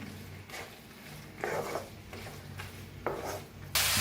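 Soaked chana dal being stirred into a hot oil tempering in a pan, heard as several close scraping, rasping strokes in short bursts, ending with a louder scrape.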